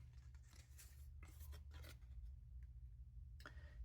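Scissors trim paper pieces for a birthday banner, several faint close snips and slicing swishes in a quiet room with a low background hum.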